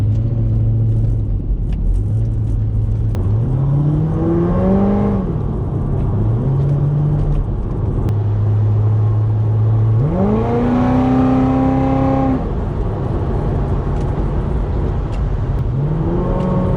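A supercharged Corvette accelerating onto a wet highway at night, its engine note climbing through several gear pulls with drops between shifts over a steady road rumble, close and loud.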